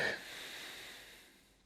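A single soft, breathy exhale during a strength yoga exercise, close to the microphone, starting with a rush of air and trailing off quietly.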